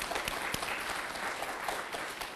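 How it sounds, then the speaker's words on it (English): Fairly quiet, steady applause fills a workshop room for people thinking of running for office, many hands clapping in an even, continuous patter with a few sharper claps standing out. "so round of applause"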